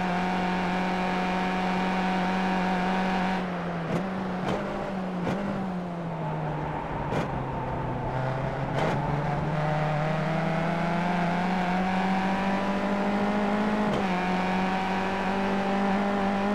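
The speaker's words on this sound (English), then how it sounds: "I just love the sound of these little engines." Small-engined race cars in the iRacing sim at Summit Point drone steadily under load, pitch rising and dipping through gear changes with several sharp shift blips, loud and continuous with no talk.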